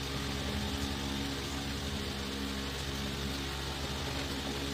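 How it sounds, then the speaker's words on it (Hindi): A refrigerator compressor wired directly to 220-volt AC mains runs with a steady low hum and mains-frequency drone, constant and close throughout with no speech. "देखिए ये कंप्रेसर चलने का आवाज़ आपको सुनाई दे रहा होगा।"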